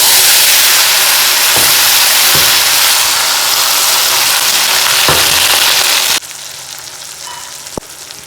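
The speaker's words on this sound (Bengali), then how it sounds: "এবার আমি একে একে সব মশলাগুলো কিন্তু স্টেপ বাই স্টেপ সব কটা মশলাই কিন্তু একে একে দিয়ে দেবো" Whole spices and cardamom pods crackle and sizzle in hot oil for a Bengali tempering, a loud steady frying hiss with occasional sharp pops and utensil clinks, which drops to a quieter sizzle near the end.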